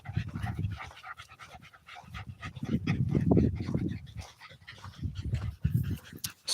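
Dogs pant rapidly and heavily on a walk, close and rhythmic breathing bursts that swell and fade, with a faint whimper.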